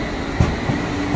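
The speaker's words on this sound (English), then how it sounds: "There is a Richmond train now approaching platform 4 in 2 minutes." A London Underground train rolls into Earl's Court station platform, a steady close rumble of rail noise with a brief clunk partway through and wheel clatter throughout, no talk.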